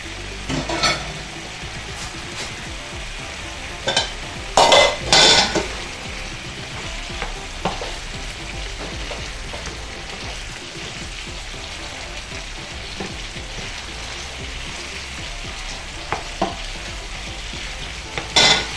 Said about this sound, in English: Allow that to fry for some minutes. At this point I want to add my snail.